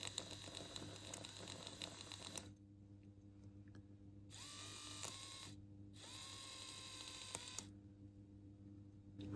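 A small electric motor in a Fleischmann 4247 HO scale Latour 5200 Class diesel model locomotive whirs in short bursts, starting and stopping several times with a thin, high buzz over faint background hum.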